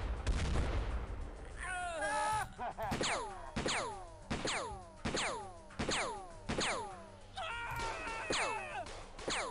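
Reaction gunfire in the X-COM Files video game: a run of about eight loud, sharp bursts spaced roughly half a second apart, each decaying with a falling whine, dense and close with no talk.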